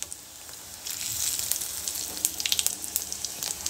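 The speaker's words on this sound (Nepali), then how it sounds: "यहाँ चाहिँ तेल गरम भइसकेको छ र म चाहिँ खडा मसाला राख्दिन्छु" Whole spices such as bay leaf and cumin seeds frying in hot oil, a steady close sizzle with crackling pops that intensify after the first second, with no talk.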